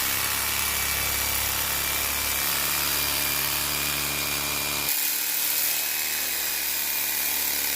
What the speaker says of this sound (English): show you a little trick I learned. Electric knife. The electric knife.